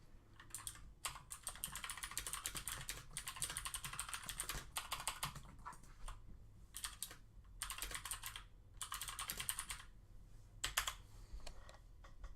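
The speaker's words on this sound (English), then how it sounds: "Typing a very pressing email." Steady typing on a computer keyboard, with bursts of rapid key clicks separated by brief pauses, close and clear throughout.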